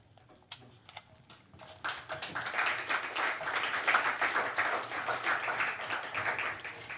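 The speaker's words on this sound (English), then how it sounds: "you don't have to clap after every poem if you don't want" An audience at a poetry night claps after a poem. The scattered claps quickly swell into steady applause that carries on, with no voices.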